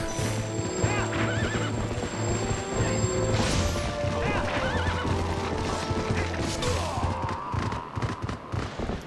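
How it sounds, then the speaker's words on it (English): Horse neighing and whinnying with galloping hoofbeats in the Zelda: Twilight Princess video game, loud and continuous over game music, with a crash near the middle. "Get on the horse."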